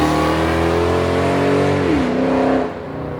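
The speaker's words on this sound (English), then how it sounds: "it's not a motorcycle, that was a car" A car accelerates past, its engine note rising loud and close, then dipping in pitch as it goes by and fades slightly.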